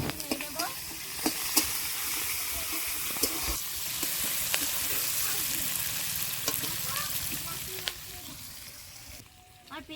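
Onions and chopped chillies sizzling and frying in a pan while being stirred for a Bengali potato curry, a steady close crackle with intermittent scraping clicks of the spoon throughout.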